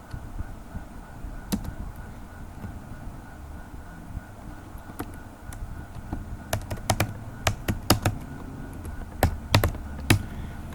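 Computer keyboard keys clack while C++ code is typed for a programming lesson, sparse at first then in quicker bursts of sharp taps over a quiet room hum, with no speech.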